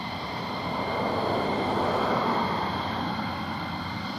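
Military jets at RAF Lakenheath give off a steady, loud broadband roar that swells slightly mid-way and holds without a break, with no voices over it.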